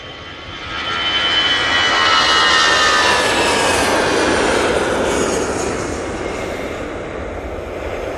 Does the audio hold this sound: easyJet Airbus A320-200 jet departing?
yes